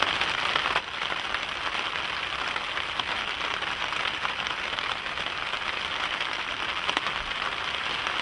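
Rain falling steadily onto a surface, a dense continuous patter with a few sharper drops, fairly close and alone without voices.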